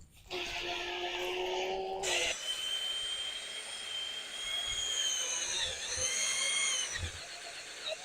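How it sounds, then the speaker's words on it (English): A power drill with a sanding attachment whirs steadily against a car headlight during polishing, starting with a higher-pitched spin, then settling into a sustained mid-pitched whine that wavers slightly as the speed changes. "Now I'm starting off slow to control the speed of the drill"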